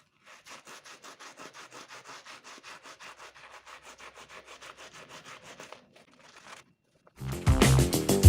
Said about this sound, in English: Now we will polish our shoes with a squeegee and dishwashing liquid.